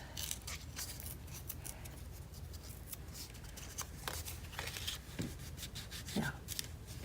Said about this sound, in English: I'm just tearing the ends.